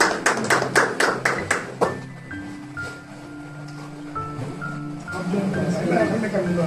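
A church congregation at an ordination service for an elder and evangelist bursts into a short round of clapping, loud and close, which fades after a couple of seconds into murmuring and background talk.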